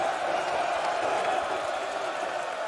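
A Dutch crowd cheers and roars at a darts match in Amsterdam, a dense, steady wall of voices and whoops held at full volume without a break.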